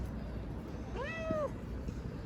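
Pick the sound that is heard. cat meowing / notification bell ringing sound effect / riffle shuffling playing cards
cat meowing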